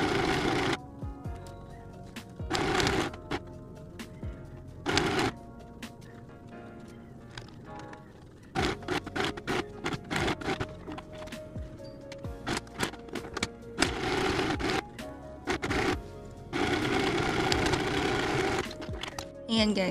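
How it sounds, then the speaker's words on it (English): Short, fast bursts of a sewing machine stitching close to the buttonhole edge of a fabric bustier crop top, stopping and restarting repeatedly, with a person talking in between runs. "now what I'm gonna do is I'm going to sew it over here as close as possible to the edge"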